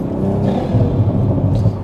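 A Toyota GR Supra with a titanium exhaust, ARMASPEED intake and no particulate filter, heard from inside during a night drive in the UK, gives a steady, deep, loud rumble with no crackles or pops.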